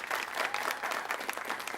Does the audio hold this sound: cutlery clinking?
no